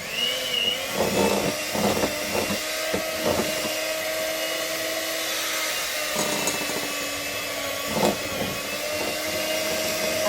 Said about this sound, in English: you're just going to mix it together with the electric beaters